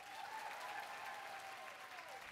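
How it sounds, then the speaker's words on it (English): An audience at an early childhood education conference applauds, a fairly faint, even wash of clapping with a faint tonal hum running underneath. "Give her a big round of applause."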